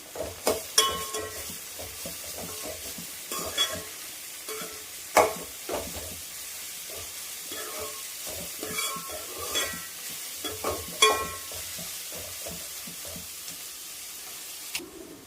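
Sliced onions and bitter gourd frying in a pan for a tomato curry, a soft sizzle beneath repeated spatula scrapes and clinks against the pan, close-up and fairly quiet, with no one speaking.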